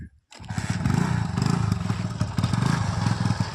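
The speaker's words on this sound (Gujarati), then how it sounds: "બાઈક કમ્પ્લેટ રાખીને હવે ચાલુ કરે છે" A motorcycle is started during a kite-festival outing, after a brief silence, then runs with a steady, close, rumbling idle throughout.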